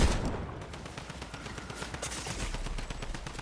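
Rapid gunfire in the Fortnite video game (Chapter 5 Season 2 duo builds match), a quick run of fairly faint shots in a steady rhythm with no talking.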